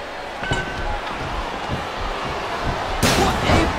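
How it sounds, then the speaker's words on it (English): A single sharp steel chair shot crashes around the three-second mark over loud wrestling arena crowd noise, with smaller thuds and impacts earlier in the din. "What a vicious chair shot!"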